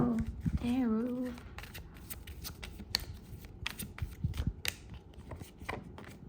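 Tarot cards shuffled by hand during a reading, a run of soft papery riffles and rubbing taps that continue steadily beneath a voice speaking at the start.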